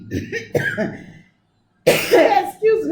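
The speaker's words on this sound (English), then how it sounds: "I don't know where this cough is coming from." Someone speaks briefly, pauses, then lets out a harsh, loud cough close to the mic, followed by more talk.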